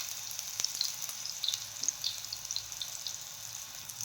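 Tomatoes fry in hot oil in a pan, a steady close sizzle with soft crackling pops and no talking.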